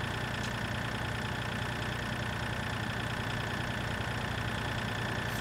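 A tractor engine idles in the farming game Farming Simulator 2013, a steady, even mid-low hum with a faint knocking texture, unbroken and alone without talk.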